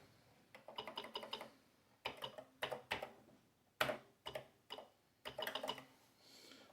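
Keys clacking on an Atari 8-bit computer keyboard as code is entered, in quick bursts of close, crisp keystrokes separated by brief pauses, with no talking.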